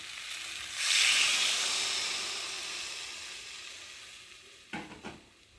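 Water poured into a pan of fried spiced soybean chunks and vegetables bursts into a loud sizzle that slowly fades, followed near the end by a few sharp clinks of a utensil against the pan.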